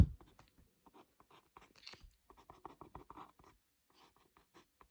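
Pen scratching across paper while drawing points onto a sketch of a trigonometric derivative graph, heard as a string of short, quiet, close strokes and taps with brief pauses between them.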